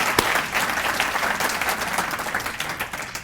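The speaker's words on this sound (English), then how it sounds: "Give them a big round of applause for their support." An audience at a city State of the City event applauds in a dense, sustained wash of clapping that continues steadily from start to finish.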